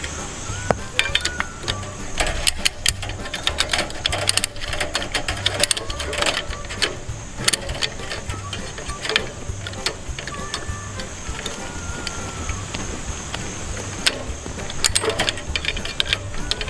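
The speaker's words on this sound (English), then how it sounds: "And then we can start ratcheting it up." A ratchet cranks up tension on wire bracing a farm gate's H-brace in a field fence, giving steady, repeated close-up mechanical clicks in a quick rhythm for the whole stretch.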